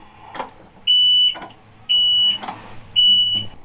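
Boat electronics alarm going off after the keys are switched on during an autopilot install, three sustained high electronic beeps about a second apart, loud and close, with clunks and handling noise between them.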